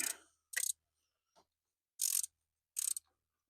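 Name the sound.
tightening valve cover bolts on 6.0 Powerstroke engine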